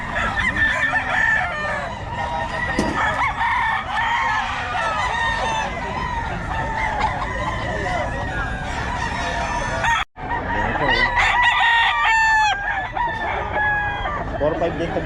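Roosters crow repeatedly at a busy chicken market in Bocaue, with overlapping calls and clucking near and far over a constant din and background voices of people talking.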